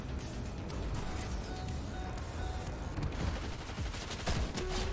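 Dense, continuous gunfire rattles through a Fortnite match, a steady wash of overlapping shots and bursts with no clear gaps, fairly loud and busy throughout.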